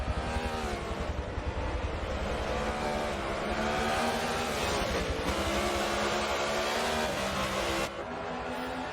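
Race cars from the Forza racing game roar continuously in a lobby race, engines droning and shifting pitch steadily at close range with no talk, the sound dipping slightly near the end.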